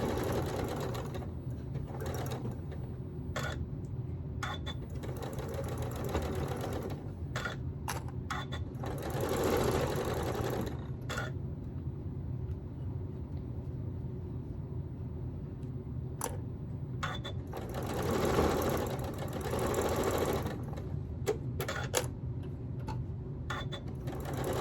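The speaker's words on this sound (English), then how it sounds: "we're just going to start sewing these two pieces together" Sewing machine joining two Yankee Puzzle quilt block pieces, its motor running in repeated close bursts of rapid stitching separated by short pauses, with light clicks and handling sounds between runs.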